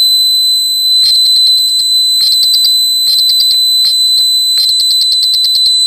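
Output tone from a 555 timer multivibrator circuit with a changed capacitor value: a loud steady high-pitched whine overlaid by bursts of rapid beeping in several quick groups.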